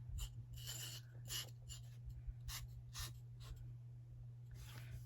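Paint pen scratching out lettering on rustic snowman winter decor: short, soft strokes in irregular bursts with pauses between, close and faint over a steady low hum, with no talking.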